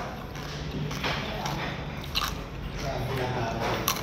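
Someone bites into crunchy lechon, roast pork, with a few soft crisp crunches and chewing sounds close up under low background noise.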